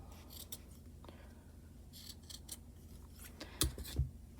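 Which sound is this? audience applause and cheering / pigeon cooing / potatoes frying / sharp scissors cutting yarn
sharp scissors cutting yarn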